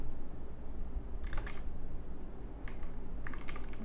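Computer keyboard typing, a few short bursts of quick key clicks close by over a low background hum.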